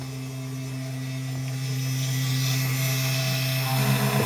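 A small CNC machine runs a job at a slow feed, giving a steady close electric whine and hum that rises slightly in level and continues unbroken, with no voices.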